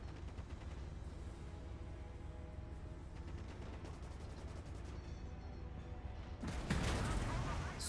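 Gunfire aimed at a tank in the Gates of Hell: Ostfront video game, with rapid distant shots rattling over a rumbling battlefield and a louder burst of fire near the end.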